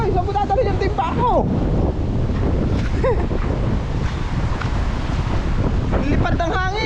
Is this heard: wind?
yes